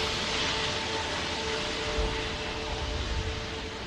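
A Boeing 737 MAX airliner touching down at Manchester Airport: a steady, broad roar of engine and rushing air that stays fairly even and moderately distant throughout, with no voices.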